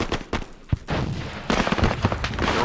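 Gunfire from the Squad Battles Vietnam video game, US jungle patrol against NVA: a burst of sharp shots followed by sustained crackling fire, fairly loud and continuous, with no talk.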